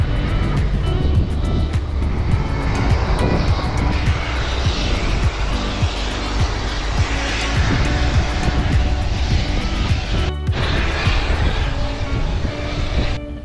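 An airplane near Shetland airport by West Voe Beach gives off a loud, sustained engine roar close by, steady for most of the stretch with a brief dip near the end.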